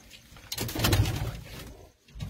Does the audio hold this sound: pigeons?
yes